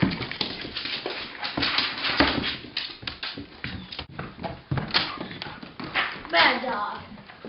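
A dog whimpers and yelps in distress, pinched by a bug during a church gathering, its cries coming in short uneven bursts over a busy background of voices and shuffling.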